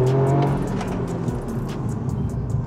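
A turbocharged Toyota GR Yaris revs hard and pulls away in first gear in sport mode, a steady loud drone with a rising, strained tone throughout.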